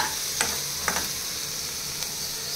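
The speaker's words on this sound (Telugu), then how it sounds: "మనకి ఆనియన్స్ వచ్చేసి గోల్డెన్ బ్రౌనిష్ కలర్లోకి వచ్చేంత వరకు మనము మంచి ఫ్రై చేసుకోవాలన్నమాట" Onions fry in a pan until golden brown for a pasta dish, with an even, close sizzle and a few brief scraping strokes of a spatula.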